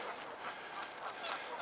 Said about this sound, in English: of course lots of geese out here on the anchors of the high level bridge